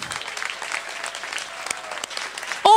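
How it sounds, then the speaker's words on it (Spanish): A crowd at the 2014 Copa de Oro horse race trophy ceremony in San Sebastián breaks into steady applause, moderately distant and even, ending in a sudden close loud noise. "Un fuerte aplauso, claro que sí,"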